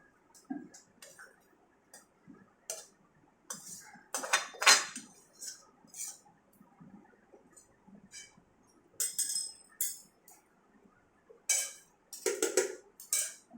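A spoon clinks and scrapes against a pot while layering rice into chicken biryani: scattered light metallic taps and clatters at irregular intervals, close and fairly quiet with pauses in between.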